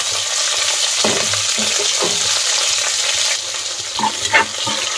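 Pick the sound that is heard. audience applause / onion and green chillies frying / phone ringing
onion and green chillies frying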